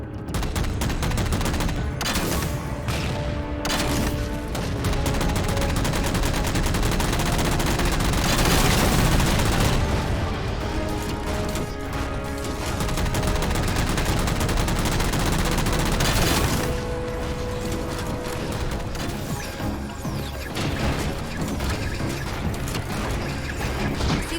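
Sustained automatic gunfire from the Halo 4 shooter game, dense, rapid bursts running almost unbroken over a heavy mechanical and musical backdrop, loud throughout with brief peaks of crashing impacts.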